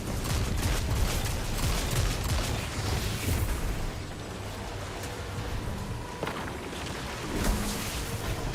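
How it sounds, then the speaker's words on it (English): A grenade blast in the Destiny 2 video game opens with a loud, rumbling burst layered with rapid gunfire and crackling effects, then fades into a lower, busy din with a few sharp hits. "See, one grenade killed them all."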